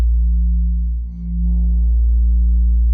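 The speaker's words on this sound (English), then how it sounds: "So that's a second frequency right near 58 hertz." Two low steady sine tones near 58 hertz hum together, producing a slow wobbling beat; a loud continuous drone with a brief dip partway.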